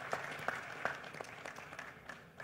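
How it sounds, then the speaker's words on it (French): Audience at a conference on nation branding and territorial marketing applauds a guest from Burkina Faso, a fairly faint, distant patter of clapping with a few louder claps. "On l'applaudit, M. Badou."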